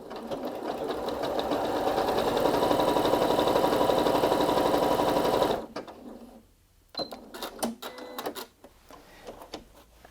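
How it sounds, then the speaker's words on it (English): A Janome Memory Craft 8200QCP SE sewing machine runs a serpentine stitch in a steady, fast mechanical whir for several seconds, then stops, leaving a few scattered clicks and handling sounds. "I've sewn that lovely serpentine stitch"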